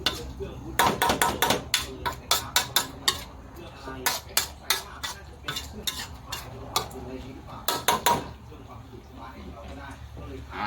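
Minced pork is chopped on a board with a cleaver in quick rhythmic clusters of sharp knocks, pausing between bursts, close and loud, for a Thai-style stir-fry, with voices talking in the background.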